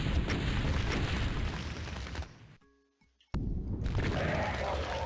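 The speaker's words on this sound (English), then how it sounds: "So now take out your rocket launcher." A rocket launcher in the classic shooter DOOM sets off a loud, roaring explosion that fills the opening seconds. The blast cuts to near silence with faint tones, then a second heavy burst erupts and rumbles on.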